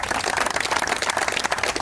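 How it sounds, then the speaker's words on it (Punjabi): Steady, dense applause from an audience at a Good Morning Welfare Club gathering in Kotkapura, sustained at an even level with no gaps for nearly two seconds. "ਸਾਰੇ ਤਾੜੀ ਮਾਰ ਦਿਓ ਬਈ"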